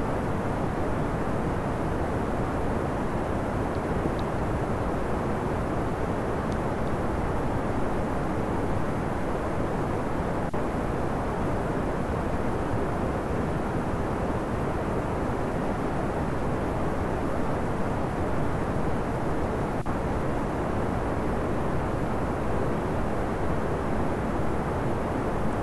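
Rocket engines throttled up during a Kerbal Space Program satellite launch produce a steady, unbroken roar of broadband rumble, loud and constant for the whole stretch with no talking over it.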